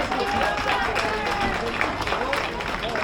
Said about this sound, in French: le public peut les applaudir